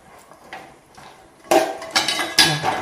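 Chickpeas boiled for kadala curry get stirred in a pot on a gas stove, chopped onion and green chilli mixed in, with a few close, loud clanks and scrapes of a spoon against the metal pot after a quiet start.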